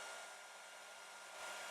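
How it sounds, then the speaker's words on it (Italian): A hair dryer blows steadily to dry an alcohol-based paint wash applied as a patina on old furniture, a constant close, loud airy roar running throughout with no talk. "Ora asciugo col phon."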